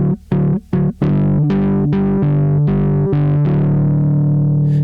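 Electric guitar driven through a reverb pedal with heavy, high-gain drive distortion: a few short muted stabs, then sustained ringing chords that swell and decay into a lingering reverb tail, loud and alone.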